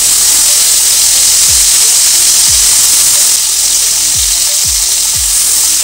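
Dry chili, radhuni and whole cumin fry in hot oil for shukto, making a loud, continuous, close hissing sizzle. A few soft low knocks, like a spoon against the pan, sound under it.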